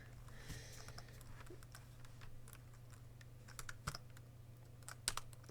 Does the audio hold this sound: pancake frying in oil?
no